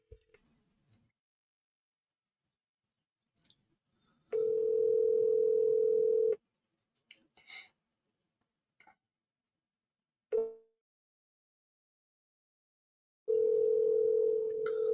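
A phone line rings out while a call is being placed, two long steady tones separated by a pause of near silence, with faint clicks in between.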